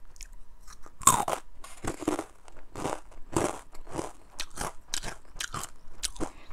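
Trader Joe's rolled tortilla chips crunch loudly and close as they are bitten and chewed, with irregular crisp cracks and a steady chewing rhythm, with no speech.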